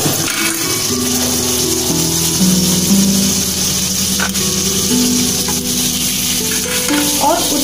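Two spoons of butter heating in a pan as the base for a white sauce, a steady soft sizzle with faint clinks and a low hum running underneath, with no one talking.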